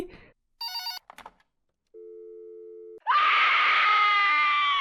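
In the video game Just Cleaning, after a short electronic ring and a steady tone, a loud, shrill scream bursts in and holds for nearly two seconds.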